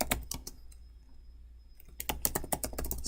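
Typing on a computer keyboard at a Linux terminal on Ubuntu, with bursts of crisp, close key clicks at the start and a busier run of rapid keystrokes in the second half, separated by a quiet pause.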